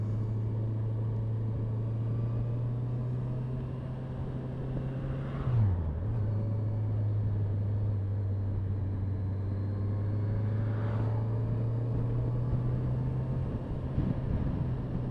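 Steady engine drone of a motorbike crawling along in traffic behind a truck, a constant low hum with a brief dip in pitch partway through, broad road noise around it and no talking.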